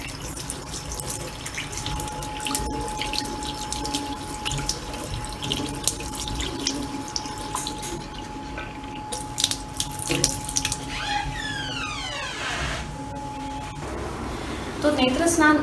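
Water is splashed onto open eyes during a yoga eye-washing exercise, heard as a steady stream of running tap water with scattered splashes and drips throughout.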